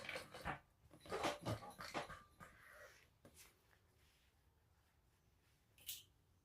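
A small pet dog named Murphy barks and yelps a few times at close range early on, then quiets to faint indoor background noise with one more brief sound near the end.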